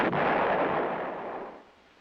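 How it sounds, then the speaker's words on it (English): A self-propelled 8-inch M110 howitzer firing: a huge, broad boom that rolls and slowly fades over about two seconds, heard alone without speech. "The self-propelled 8-inch howitzer M110 employs the same tube as the towed weapon."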